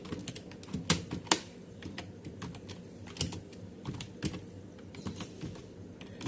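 Steady typing on a computer keyboard while entering payment details into an Excel sheet, with uneven bursts of sharp key clicks and a few louder taps, close and fairly quiet, no talking.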